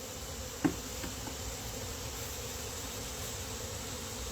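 Honeybees buzzing steadily during a hive split, a continuous hum with one brief knock near the start.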